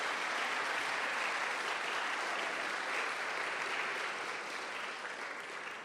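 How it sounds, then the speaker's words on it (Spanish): A church congregation gives a round of welcoming applause during a Spanish-language service. The clapping is dense and steady for the whole stretch and tapers slightly at the end. "Vamos a darles un aplauso de bienvenida"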